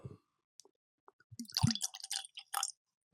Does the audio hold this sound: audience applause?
no